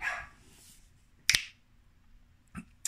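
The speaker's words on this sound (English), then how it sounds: "my dogs are losing their minds upstairs." A few short barks from dogs upstairs in a home, muffled and somewhat distant, sounding as separate sharp bursts with quiet gaps between them.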